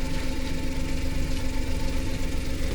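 A Suzuki minivan engine fitted with a power jet, running steadily at a constant hum with a faint knocking vibration, close and continuous, with no talking.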